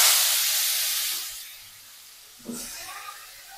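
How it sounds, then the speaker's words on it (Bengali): Small local fish, tender young ones with fish heads first, hit hot oil in a pan with a loud steamy hiss that fades over about two seconds, then a second burst of spitting sizzle, heard close up. "তো চলেন মাছটা ভাজি করে ফেলাই।"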